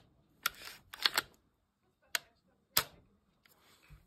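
Trigger of a Grandpower Stribog RSR9 A3 pistol, worn in after 38,000 rounds, pulled and reset several times: sharp mechanical clicks alone in a quiet room, a double click near the start and then single snaps spaced apart.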